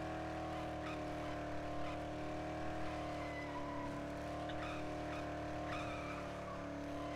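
A car driving and skidding in the video game Dead Island, with a steady engine drone and faint tire squeals running continuously, fairly quiet and without talk.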